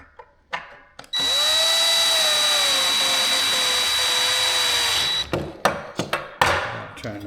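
A power drill runs in one long continuous burst of about four seconds, driving screws into a wall mount for a motorcycle helmet holder, with brief clicks and handling knocks before and after.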